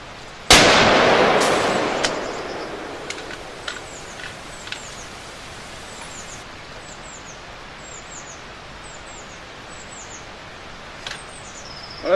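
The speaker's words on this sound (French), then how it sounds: "ce que vous entendez, ce sont mes mésanges, parce que je leur ai pas mis les tournesols" Tits (titmice) chirping at an outdoor shooting range: a single loud rifle shot opens, then a series of short, high, faint chirps scattered over a quiet background.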